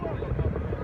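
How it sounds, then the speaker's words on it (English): Helicopters arrive at an air show, their deep rotor thumping rumbling steadily and loudly along with wind noise over a brief moment. "I love the sound of these helicopters."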